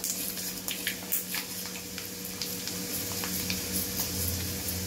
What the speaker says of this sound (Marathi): हे राई टाकली आहे मी फोडणीला, आणि आता धने पण टाकते फोडणीला